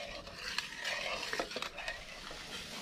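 Coconut milk simmering over a low gas flame is stirred with a spoon, giving soft scraping strokes and a faint bubbling hiss at close range, with brief utensil clinks scattered through the short stretch.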